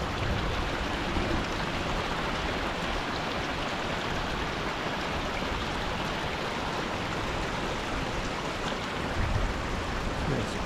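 Heavy rain pouring down on the mountain road to Yankee Boy Basin during a storm, a dense, steady hiss of rainfall that stays constant and fairly loud throughout, with no voices.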